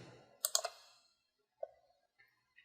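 Clicking keystrokes on a computer keyboard, a quick cluster of several taps followed by a few fainter, isolated clicks, close and quiet with no talking.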